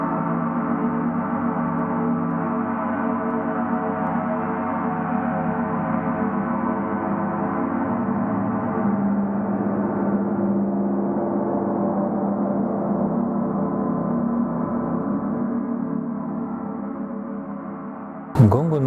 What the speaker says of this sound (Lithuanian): gongų gaudesys per visą naktį